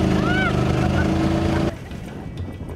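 A boat engine drones loudly under wind and water noise on rough, wave-battered sea near Apo Island, cutting down to a lower rumble partway through.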